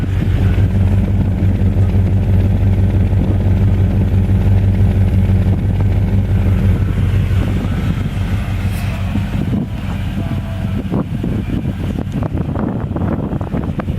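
A Chevrolet K1500 pickup truck idles in freezing weather outside, its engine a steady low rumble running continuously and fairly loud, with wind noise buffeting the microphone and a few faint clunks toward the end.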